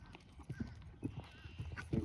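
Horse hooves clip-clopping on the ground during a jumping lesson, a steady series of soft thuds close by, with no one speaking.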